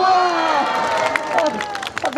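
Crowd at a street magic show in Sinchon, Seoul, cheering and clapping loudly and continuously, with shouting voices layered through the noise.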